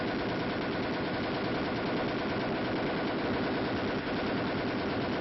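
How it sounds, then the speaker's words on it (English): An M73 lightweight air-cooled, recoil-operated machine gun firing fully automatic, a loud unbroken rapid stream of shots sustained for several seconds with one tiny gap near the end. "The M73 machine gun is a lightweight, air-cooled weapon. It is recoil-operated with a gas assist and is completely automatic."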